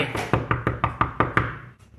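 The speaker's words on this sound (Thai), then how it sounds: "เวลาเราเคาะโต๊ะ ที่มันใกล้ ๆนะครับ" Knuckles knock on a table close to a phone, eight sharp, evenly spaced raps in quick succession, close and fairly loud, followed by a short quiet tail, with no talking.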